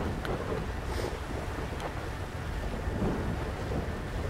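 Thunder rumbles through a storm in the video game GTA V, a steady dense roar of rain and wind with low rolling swells, heard continuously and fairly loud.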